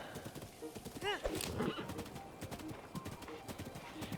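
Horse hooves clip-clop in a steady, close rhythm while riding in Breath of the Wild, with a brief whinny early on and soft game ambience underneath.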